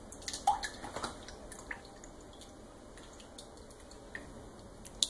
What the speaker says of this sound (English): We are going to just stir that together, break up the egg yolks.